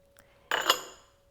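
A utensil mixing pad thai sauce in a dish makes a single short metallic clink and scrape that rings briefly against a quiet background.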